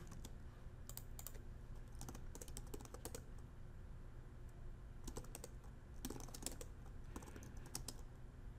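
Keys tapped on a computer keyboard come in short bursts of quick clicks separated by pauses, faint and close against a low steady hum, with no talking.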